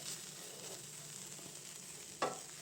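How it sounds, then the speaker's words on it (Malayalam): Soft, steady sizzling of chilli and pepper powders frying in oil for a clam roast, fairly quiet and continuous, with one brief louder crackle near the end. "എല്ലാം നല്ലപോലെ നല്ലപോലെ മിക്സ് ചെയ്ത് ആ പൊടികളെല്ലാം ഒന്ന് നല്ലതായിട്ട് മൂക്കട്ടെ"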